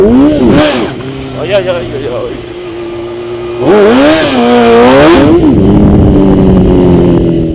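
A motorcycle engine revs hard in first gear during a wheelie on a wet road, its pitch sweeping up and down in loud bursts, with a brief spoken exclamation over it.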